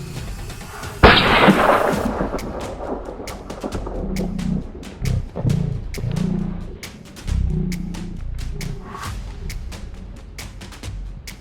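A single loud rifle shot booms on a safari hunt, fired at game, followed by a long rolling echo across open country, then scattered bird calls and faint rustling.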